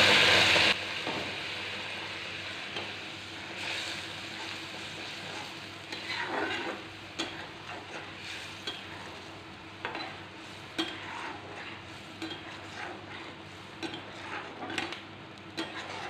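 Fish sizzling and frying in a pan while cooking a mustard fish curry, a steady hiss with intermittent stirring clinks and utensil taps against the pan, heard close with no talking.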